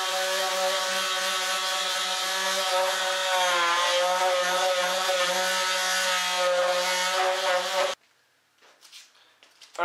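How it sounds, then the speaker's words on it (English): A small triangle detail sander works the corners of a wooden table during refinishing, its steady high-pitched electric buzz loud and close for about eight seconds before cutting off abruptly, leaving only faint background noise. "let me hit these little corners with my little mini triangle sander"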